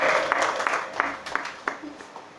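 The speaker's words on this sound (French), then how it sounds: "On acclame le Seigneur de Christ et son serviteur." Church worship congregation applauding: a short, scattered burst of hand claps with a few sharper individual claps, fading over about two seconds beneath murmuring voices.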